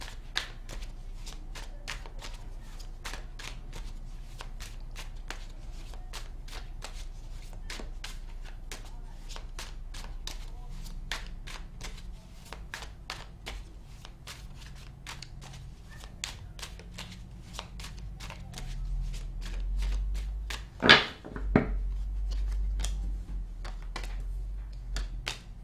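Tarot cards being shuffled by hand for a reading, with a steady run of crisp riffling snaps and taps close to the microphone. A louder shuffle comes near the end, and a voice talks quietly underneath.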